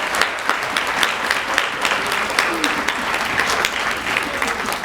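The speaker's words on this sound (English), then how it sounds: "can we all just give a round of applause for Ms." A banquet audience at an NAACP Freedom Fund event applauds in a full, steady wash of clapping, dense and sustained, with a few sharper individual claps standing out.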